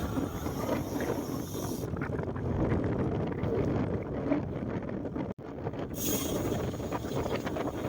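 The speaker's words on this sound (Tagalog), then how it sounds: "Nasa lubong ako ng hangin." Strong headwind buffeting the microphone while cycling, a continuous low roar and rumble that rises and falls over several seconds.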